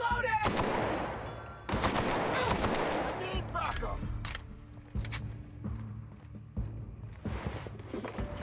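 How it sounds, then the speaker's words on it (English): Video game gunfire in The Outer Worlds: sharp bursts of shots at irregular intervals, loud at first and then trailing into lighter pops under a low hum, with someone talking in between. "Stop shooting at me."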